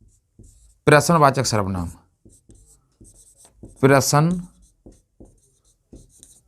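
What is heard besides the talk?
writing a heading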